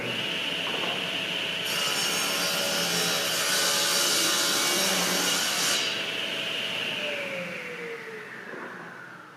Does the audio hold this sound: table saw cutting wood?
yes